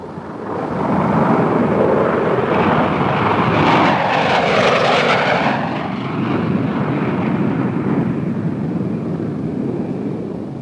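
Piston engines of a B-49 flying wing bomber drone loudly and steadily in a sustained roar that swells near the middle and holds on.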